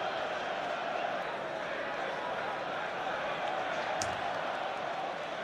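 A dense, steady roar of a football stadium crowd at Chelsea versus Manchester United, a constant wash of distant voices with a brief sharp accent partway through and no clear breaks.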